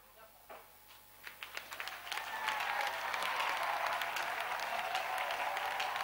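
A church congregation breaks into clapping as a clap offering during an intercession service, starting with a few scattered claps that quickly swell into steady, full applause from the whole room.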